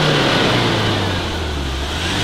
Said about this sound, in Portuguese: eu vou dar uma partidinha aqui pra vocês sentir o drama, o jeito que é na hora que você sai com ela acelerando